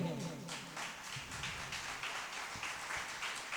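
An audience claps at a certificate distribution ceremony for a computer institute, a steady patter of applause heard faintly in the distance with a voice over it.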